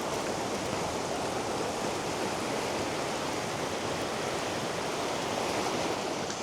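A powerful brown, muddy waterfall on the Four Falls Trail, a constant loud roaring rush of water close by with no voices.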